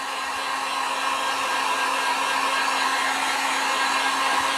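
A hair dryer blows steadily on a wet, torn poster board heart craft, a loud, even whoosh that continues unbroken throughout with no other sounds.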